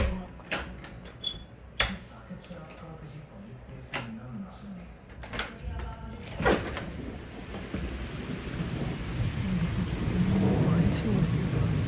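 Heavy evening rain pours outside as thunder cracks and booms in sharp bursts, the downpour swelling into a dense steady roar; people talk over it at times.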